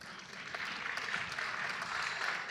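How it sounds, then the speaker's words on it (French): Steady applause from the audience at a charity gala in a Paris hall, a continuous even wash of clapping with no voices over it. "Applaudissez-vous, s'il vous plaît."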